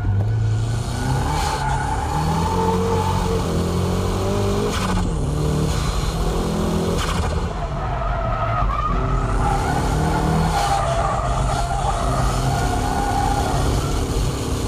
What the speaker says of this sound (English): My drifting is a bit wild, isn't it?